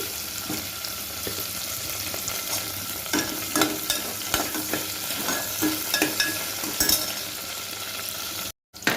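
Green chillies and ginger-garlic paste fry in a pan for tomato rice, giving a steady sizzle broken by repeated scrapes and stirring knocks, close and fairly loud with no talk.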